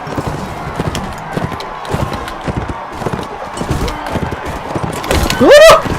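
Rapid rhythmic hoofbeats of a galloping horse in a video game, steady and fairly loud, ending with a sharp whinny near the close.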